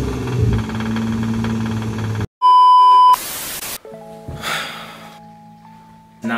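The blown motor of a Nissan 350Z runs with a rough, rattling drone for about two seconds. Abrupt electronic tones and bursts of noise follow.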